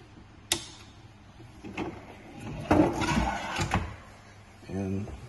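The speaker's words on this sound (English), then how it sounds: "And drawer box came down." A cabinet drawer box being lowered with adjustable clips produces a few soft clicks and plastic-and-wood knocks spread over several seconds, close by, with a brief voice at the end.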